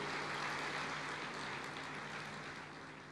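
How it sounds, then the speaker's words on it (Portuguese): A church congregation applauds together in a broad, steady wash of clapping that fades slightly over three seconds, with no talking over it. "Igreja, celebre o Senhor, aplauda o Senhor."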